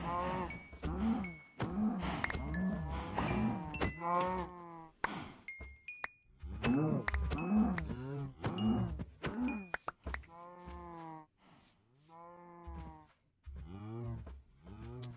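Cows in the Minecraft GregTech New Horizons game moo repeatedly in overlapping, drawn-out calls, fairly close and steady, with occasional clinks.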